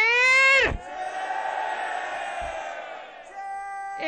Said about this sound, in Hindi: खुरम भाई एक नारा लगाते हैं कि चौथी बारी फिर